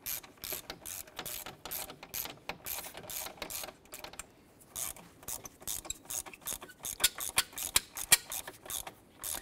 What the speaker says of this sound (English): Once that bolt snugs down, about a quarter turn